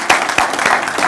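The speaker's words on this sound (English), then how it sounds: "Can we get a round of applause" Brief applause from a room of attendees for a board of directors, a quick scatter of distinct claps over a low crowd murmur.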